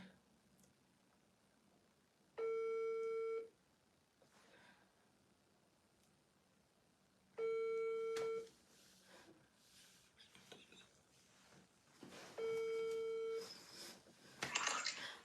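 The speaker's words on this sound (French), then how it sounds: "il a appelé maman Cynthia" A telephone ringback tone plays during a call: three loud, steady tone pulses about a second long, spaced several seconds apart, with faint background noise and murmurs between them.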